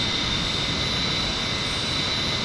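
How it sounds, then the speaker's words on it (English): An A-10C jet in the DCS flight simulator climbs after takeoff with its gear and flaps up, giving a steady, loud engine roar and whine with no talk. "140 knots, up in the air. Landing gear up. 7-degree climb. Flaps in the up position."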